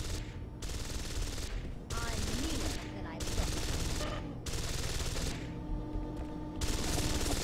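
Rapid gunfire bursts in the video game Deus Ex: Invisible War, loud and sustained over several seconds, separated by brief gaps, with game voices mixed in.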